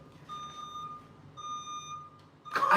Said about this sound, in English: And there's our daily beeping.